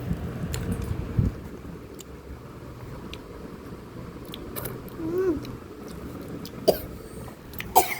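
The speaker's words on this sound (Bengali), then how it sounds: "চাট মশলা কেটে কেটে কাশি শুরু হয়েছে" A few separate coughs, brought on by chaat masala, spread over a quiet background, with faint clicks and soft rustling in between.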